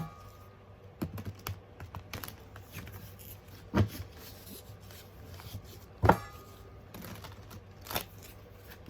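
A deck of cards is shuffled lightly by hand, producing soft ruffling and riffling patters close by, broken by a few sharper taps and clacks at irregular intervals.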